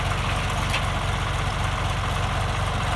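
A farm tractor's engine runs steadily while towing on a cold day of about 18 degrees, a loud, even low throb that holds at a constant idle-like pace throughout, close by with no talking.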